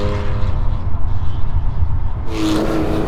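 Porsche 911 engine breathing through a loud, nearly straight-through exhaust, heard as a deep continuous rumble with a rougher burst of noise near the end.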